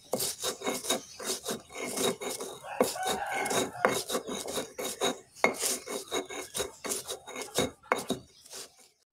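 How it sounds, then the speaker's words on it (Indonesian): Coconut flesh grated by hand on a traditional wooden grater with teeth, a rapid series of loud, close rasping strokes in an uneven rhythm, with no talk. "Ini alat tradisional parut namanya, terbuat dari kayu dan itu ada gigi-giginya. Fungsinya untuk memarut kelapa"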